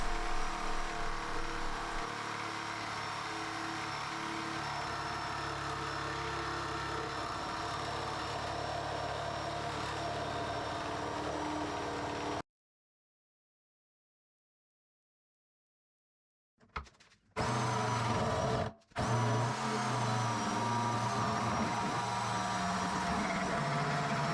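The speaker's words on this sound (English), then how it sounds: "The various pins and screws in the band are also easier to negotiate with the jigsaw." A jigsaw cuts through a metal barrel band with a steady, loud buzzing whine. It stops abruptly partway, then after a few seconds of silence restarts in short bursts before running steadily again.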